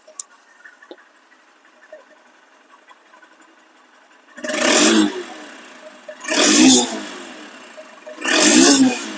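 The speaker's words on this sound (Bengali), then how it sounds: "সাউন্ড কোয়ালিটি শুনুন, দেখেন সাউন্ডটা, দেখেন একদম শোরুম কন্ডিশন সাউন্ড" A second-hand Honda X Blade motorcycle in showroom condition idles faintly, then gives three sharp throttle blips a couple of seconds apart, each rising and falling quickly, loud and close.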